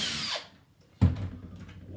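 Two brief bursts of a power drill driving screws, one fading out early and another kicking in after a pause, close by and fairly quiet.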